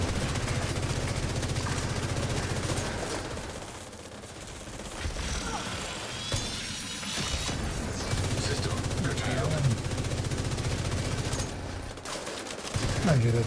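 Video game gunfire sounds in sustained loud bursts as an enemy warhound is shot. Rapid automatic fire runs on with short pauses, and someone talks over it.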